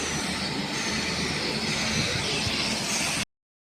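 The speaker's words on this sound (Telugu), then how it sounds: "ట్రైన్ వచ్చింది ఏదో నాందేడ్ది, వేరే సైడ్ వెళ్తుంది అది" A train passing through a railway station, a steady, loud rumble of rolling stock with wheel noise that continues without a break for about three seconds before cutting off abruptly. No one speaks.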